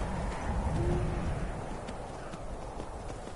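Skyrim horse trotting, hooves clip-clopping in an even rhythm at moderate volume, with faint background ambience and no talking.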